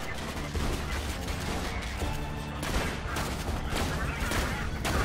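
Dense gunfire bursts in Borderlands 2 shooter gameplay, continuous and loud, mixed with game effects and overlapping talk.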